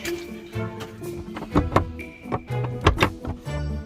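Wooden door standing in the middle of a forest, tried and found locked: several dull knocks and rattling thunks in quick succession, close by, with faint ambient noise between.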